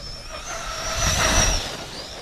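Electric motor of a Pro-Line Pro MT 4x4 RC monster truck on 4S power at half throttle: a steady, fairly close whine with overtones that swells a little in the middle of the run, then eases back.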